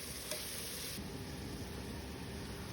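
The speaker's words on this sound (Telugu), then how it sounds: "టొమాటో ఒకటి పెద్ద సైజు ఇలా మంచిగా ఫ్రై చేసుకోవాలి." Onions, green chillies and tomato frying together for prawn pulav, a constant close hiss of sizzling oil with a faint stirring scrape near the start.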